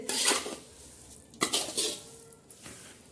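Raw mango pickle masala being stirred in a pot, with close scraping and clinking of a utensil against the metal in three or four distinct bursts, fairly loud and alone without talk.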